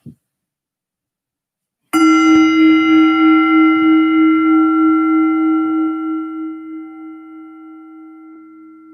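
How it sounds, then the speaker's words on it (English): A meditation bell struck once after a faint tap, ringing with a clear, pure tone that sustains and slowly fades over several seconds with a gentle wavering shimmer, heard alone in silence. "The bell opens our ears to be here in this moment."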